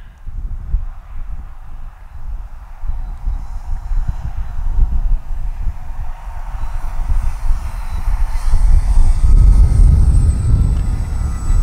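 Arrows Husky RC model airplane making a low pass over a flying field, its electric motor whine building steadily and growing louder as it nears, with a rising rush toward the end.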